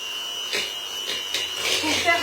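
An electric kitchen mixer running at low speed, a steady high whirring hum with slight surges, heard close beneath a person talking.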